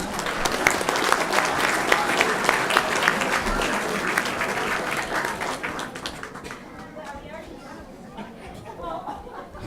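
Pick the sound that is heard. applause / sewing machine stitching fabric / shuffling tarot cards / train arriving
applause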